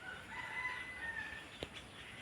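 Chickens and a rooster at a rural farmhouse where goats are also kept, with faint crowing and clucking calls rising over quiet outdoor ambience in a short, soft stretch.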